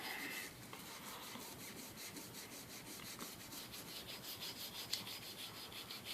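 An FNP .45 pistol is scrubbed with CLP in steady, close, rhythmic brushing strokes, a soft gritty rubbing that repeats without pause and without talk.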